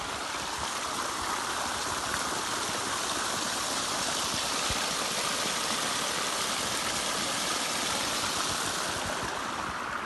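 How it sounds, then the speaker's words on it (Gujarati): A farm water pump motor hums steadily under a constant rush of pouring water irrigating maize and sorghum fields, unchanging throughout, with no voices. "મોટર ચાલુ કરી દીધી"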